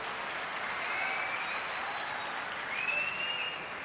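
Sustained applause from an audience at an award ceremony honouring Ali, steady broadband clapping throughout with faint cheers or whistles rising near the end.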